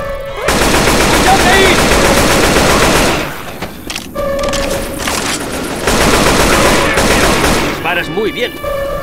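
Loud, sustained automatic gunfire in Left 4 Dead 2 during a Parish mutation match, continuous bursts with brief pauses, with a voice speaking over the shooting.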